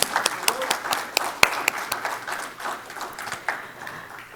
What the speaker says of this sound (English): Let's give them another round of applause, please.